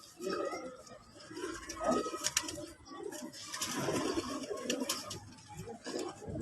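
Pigeons kept by a fancier coo softly and repeatedly at close range, with faint background voices and occasional wing rustles.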